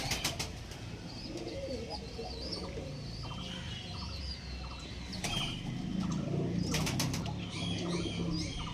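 Pigeons and young pigeons at a loft raising squabs, with scattered cooing, light chirps and bursts of wing flapping over a steady low hum of background noise, nobody speaking.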